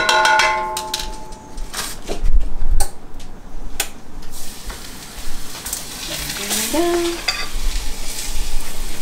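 Tortillas flavored with sauce fry in a little oil on a hot griddle, with a soft sizzle and frequent sharp utensil clacks and scrapes close by, plus a brief squeak.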